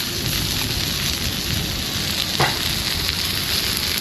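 Food sizzling in butter on a portable collapsible grill, a steady close crackle and hiss running throughout with a brief scrape midway and no talk.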